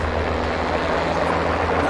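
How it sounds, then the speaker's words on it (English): A plane flying low overhead in the World War II shooter Enlisted, a loud, steady propeller-engine drone with a heavy low rumble that holds for the full two seconds. "That's a very loud plane."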